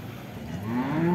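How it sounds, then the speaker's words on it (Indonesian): A Simmental cow moos at the Boyolali cattle market, a short low call that rises in strength toward the end, up close. "ada indukan simental super jumbo juga di pasar sapi Boyolali"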